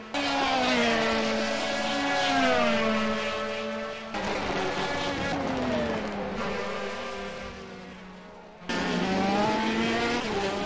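Race cars circling the Red Bull Ring in a DTM-style event, their engines whining loudly and steadily with rising and falling pitch as they pass and shift, one continuous roar briefly breaking before another car surges in.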